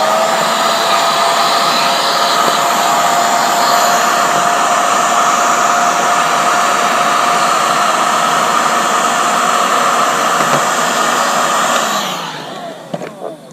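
A handheld heat gun blows hot air with a loud, steady roaring hiss, running continuously for about twelve seconds before shutting off and fading, with a few small clicks afterward and no talk.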